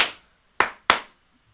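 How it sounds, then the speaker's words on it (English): Three sharp hand claps for podcast audio sync, close and loud: one clap, a short pause, then two more in quick succession, each decaying fast into silence. "See, the multiple claps is gonna ruin the sync."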